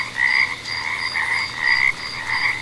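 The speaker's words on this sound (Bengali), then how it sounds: "আর ব্যাঙের ডাক আর ঝিঝি পোকার ডাক শোনা যাচ্ছে।" Frogs croak in a dense, pulsing chorus beside a dark field road on a drizzly rainy-season night, a continuous rhythmic calling with no voices.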